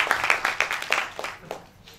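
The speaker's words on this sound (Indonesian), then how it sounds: "Kita tepuk tangan buat Tuhan" Church congregation clapping hands for God, a fading run of sharp individual claps, close, thinning out over two seconds.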